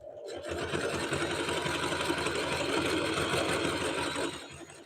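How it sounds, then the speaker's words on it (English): A sewing machine runs steadily, stitching fabric strips onto a rag rug, a continuous close whir for nearly five seconds with no talking. "we've probably got about 20 strips left to sew on this"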